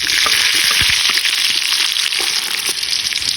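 Garlic and onion frying in a pan as a vegetable dish is cooked: loud, continuous crackling sizzle with bursts of popping, close up and without talk.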